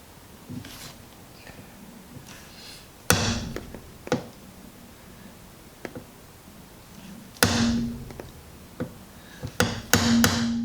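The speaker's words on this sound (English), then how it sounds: "I'll take a punch and a hammer." Sharp metallic taps of a hammer striking a center punch ring out alone, a few scattered single strikes followed by a quick cluster of hits near the end, close and fairly loud.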